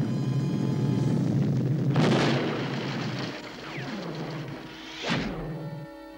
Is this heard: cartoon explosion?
yes